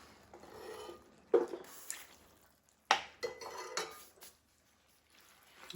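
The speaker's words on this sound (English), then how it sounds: "And I'm going to keep stirring." A spoon stirring mushroom risotto rice in a pot, with a few distinct scrapes and knocks against the metal between quieter stretches of soft stirring, close and fairly faint, no speech.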